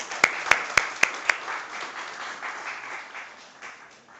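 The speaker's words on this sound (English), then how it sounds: "Please give a round of applause." An academic conference audience applauds, led by a few sharp distinct claps up front, then a softer spread of clapping that gradually fades out.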